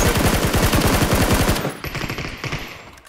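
Fast automatic gunfire in the battle royale game PUBG, a loud sustained burst of rapid rounds that cuts off and trails into scattered, fainter shots.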